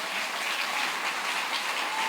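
Congregation at a church service applauding together, a steady dense wash of clapping that fills the whole moment without a break and without any voices over it.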